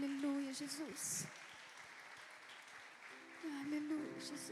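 Congregation clapping during a Sunday Christmas Eve worship service in a Portuguese-speaking church, a brief burst of applause mixed with singing voices and music.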